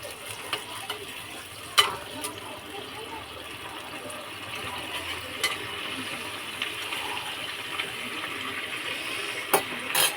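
A garlic spice paste for a catla fish roe curry is sautéed and stirred in a pan. A faint, steady sizzle runs under occasional sharp utensil clicks and scrapes, heard alone with no voices.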